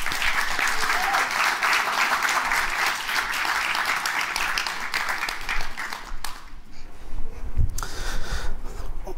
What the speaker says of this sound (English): Let's make some noise for Nav.